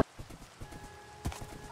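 Horse hooves clip-clop in a Minecraft horror mod, a quick run of light, evenly spaced clops over a steady low game ambience.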